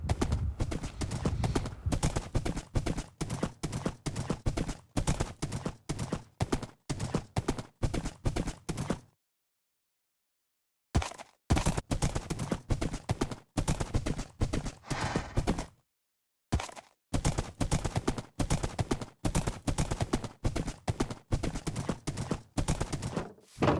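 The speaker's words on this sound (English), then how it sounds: "There's my horse." Rapid, steady clip-clop of horse hooves galloping in Minecraft Pocket Edition, continuous and loud, broken by two brief silent gaps before the rhythm resumes.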